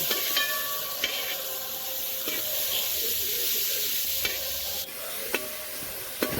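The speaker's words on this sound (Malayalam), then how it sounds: "ഇതിലേക്ക് നമുക്ക് സബോള ചേർത്ത് കൊടുക്കാം സബോള ചേർക്കുന്നതിനോടൊപ്പം തന്നെ ഉപ്പും ചേർത്ത് കൊടുക്കണം" Sliced onions fry with salt in a hot pan for a liver roast, a steady bright sizzle running throughout with several sharp clicks and scrapes of a spatula stirring, close and fairly loud, with no talk.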